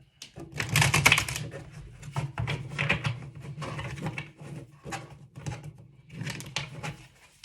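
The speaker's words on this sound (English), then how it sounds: "Let me try to shuffle this way again." Cards riffle and rustle in quick, papery bursts, up close, with soft clicks and pauses between shuffles.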